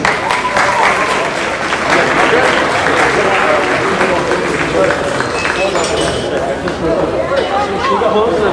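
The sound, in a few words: crowd applause at pig show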